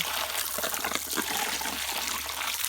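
Water splashes steadily while a child is bathed, a continuous close wash of gushing and dribbling with no voices.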